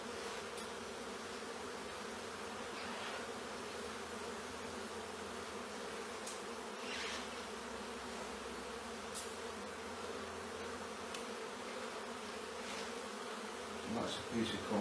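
A steady swarm of honey bees hums continuously while being removed from a chimney, a close, even buzz with occasional brief knocks and a louder rustle of handling near the end.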